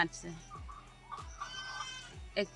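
Laying hens on a poultry farm clucking and cackling near and far in a busy, irregular stream, with a person's voice talking over them.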